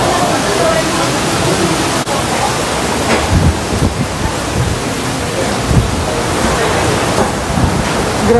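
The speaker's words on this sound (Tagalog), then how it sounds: "Buti na lang umabot kami bago bumuhos ng ganito kalakas." Heavy rain pouring down steadily, a loud dense continuous hiss with faint low rumbles underneath.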